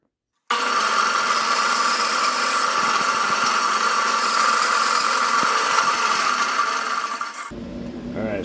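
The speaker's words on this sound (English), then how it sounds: "then we'll cut it off with the bandsaw" A bandsaw cuts through a lime green and black pearl pen blank for a crochet hook, giving a loud, steady, continuous whine and rasp for about seven seconds before it abruptly stops. No one speaks.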